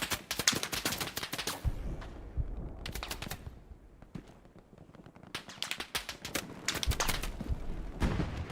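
Gunfire in the Hell Let Loose video game on PC: bursts of rapid sharp shots and rattling volleys, a quieter lull midway, then more crackling fire, fairly distant and faint.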